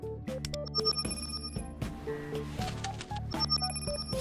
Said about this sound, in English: 目覚ましが鳴る。